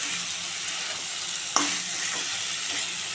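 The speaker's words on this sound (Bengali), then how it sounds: "ভালো করে লতিটা নেড়ে চেড়ে দেবো ভালো করে।" Taro stolons (kochur loti) being stirred in a frying pan, giving a steady close sizzle with one sharp scrape of the spoon against the pan partway through and no talking.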